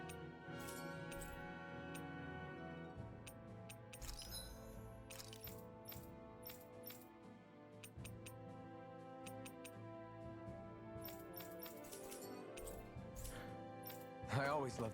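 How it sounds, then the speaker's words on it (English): Hammers bang in a forge scene in the video game Tales of Arise: repeated sharp metallic clinks in an irregular rhythm, set under steady game music and other in-game sounds. "I always love the sound of hammers banging away."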